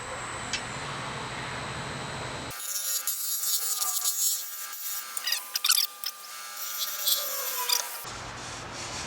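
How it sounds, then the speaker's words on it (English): A 3/8 gouge scrapes along the edge of a cedar piece in a workshop, a close, rough rasping and rubbing that runs for several seconds with faint ticking scrapes, bracketed by a steady background hum. "I'm going to try to get one more scrape along the edge"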